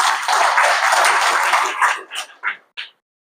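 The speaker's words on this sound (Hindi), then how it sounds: "एक बार माधव सर के लिए जोरदार ताल" An audience bursts into loud applause that holds briefly, then thins to a few scattered claps and stops, leaving silence.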